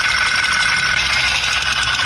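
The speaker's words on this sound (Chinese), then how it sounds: "活塞销断裂异响" A car engine with a broken piston pin runs steadily and loudly, giving a continuous mechanical drone with a persistent high metallic whine, close to the microphone and without any voices.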